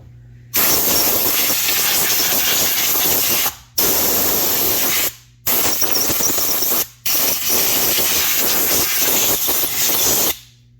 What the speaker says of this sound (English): Okay, so we're first going to blow these out.